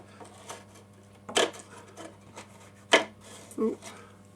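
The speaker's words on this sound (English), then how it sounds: "you just scrape it along" A tool scrapes along the edge of an N gauge model railway platform to smooth it, producing a few separate short rasping strokes, close and fairly quiet, over a faint steady hum.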